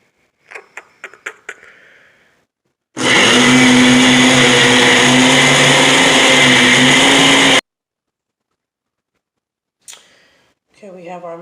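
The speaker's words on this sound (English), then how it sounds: "Make sure your lid is on your blender really tight, or food processor or whatever." A blender purees a jerk chicken sauce mixture in one loud, steady whir lasting several seconds, with talking before it starts and after it stops.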